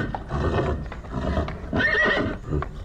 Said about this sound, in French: ma famille a entendu les hennissements des chevaux dans le vieux kraal en pierre